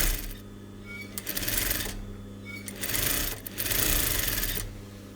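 A sewing machine stitching a contrast-colour piping seam on calico, running in three loud close bursts of rapid mechanical chatter separated by brief pauses.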